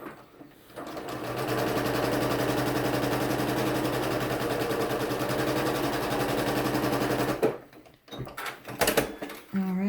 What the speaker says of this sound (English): I'm going to start back up here at the partial seam and stitch all the way to the bottom.